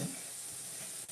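Crackling bread frying in a pan, a steady close sizzle with soft bubbling that holds evenly for about a second, with no voices.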